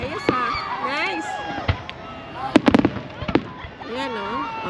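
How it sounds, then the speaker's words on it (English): Fireworks burst at the Sheikh Zayed Festival during a long New Year display, sharp crackling pops in a rapid cluster amid crowd noise, with people talking and cheering nearby. "Habang nagpa-fireworks, ayos ha."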